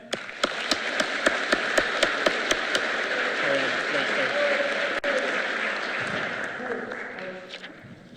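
Audience applause at an ROC ceremony, a steady wash of clapping with a few sharp nearby claps standing out at first, fading toward the end.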